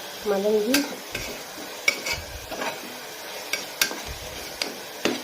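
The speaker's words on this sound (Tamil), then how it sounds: "இது நல்லா ப்ரௌன் ஷேடில் வதங்கணும் மக்களே" Onions sautéing in a pan until browned for a chicken gravy, with a steady sizzle and repeated scraping and clinking of a spoon against the pan, close and alone.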